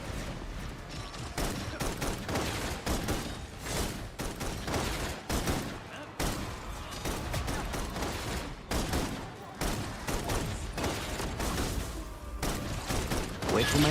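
Gunfire in the Love and Deepspace video game, rapid bursts of fusillade-like shots in dense clusters with short gaps, loud and sustained, with spoken game dialogue mixed in.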